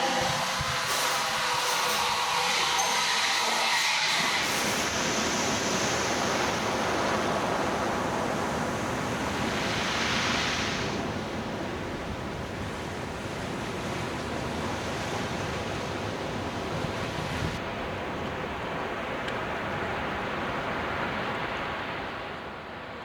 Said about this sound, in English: Sounds and noises of the sea, though often loud enough, are much more soothing and pleasing than those of a biggish town